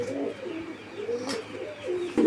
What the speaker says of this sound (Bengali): এগুলো হলো জ্যাকোভিন কবুতর